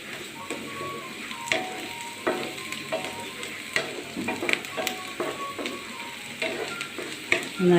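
Four whole dried chillies frying in hot oil in a pan, a close, busy sizzle broken by repeated scraping stirs and clicks of the utensil, with no voices.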